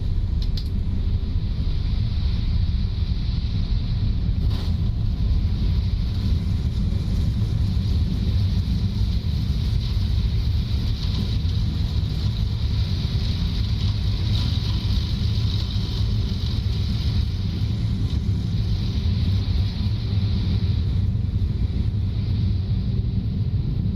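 A ToLiss Airbus A319 in its landing rollout with reverse thrust on runway 36 at Calvi St. Catherine Airport: a loud, steady, broadband roar and rumble that holds unbroken for the whole stretch, with no voices.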